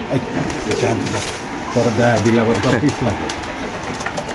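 Pigeons at a pigeon farm coo in repeated, throaty bursts close by, with people talking over and between the calls.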